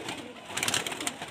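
Madrasi pigeons give a short, soft burst of cooing, close by, with no talk over it.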